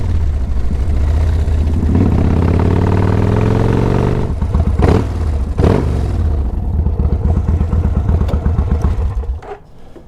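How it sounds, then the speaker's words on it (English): Motorcycle engine with mechanical damage running loudly and close, a rough steady roar with a couple of sharp revs midway before it cuts off near the end. "the bike actually runs really well."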